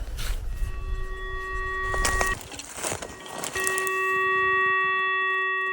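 Steady electronic beeping tones from a Xtreme Hunter metal detector sound in two long stretches, broken by clicks and handling noise, close by with no talk.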